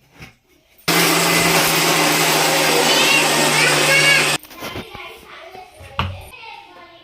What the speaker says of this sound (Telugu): ఇలా మిక్సీ పట్టుకుంటే సరిపోతుంది